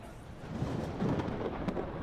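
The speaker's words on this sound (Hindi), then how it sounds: "अब बिजली कड़की तो बारिश होने के चांसेस भी बढ़ गए।" Low, rolling thunder rumbles steadily, swelling slightly in loudness, with no voices present.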